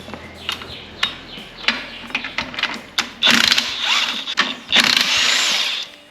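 Rear-end bolts being pulled out on a 1930 Ford Model A: a series of sharp metallic clicks and ratcheting taps, close and irregular, followed by louder bursts of rattling wrench work.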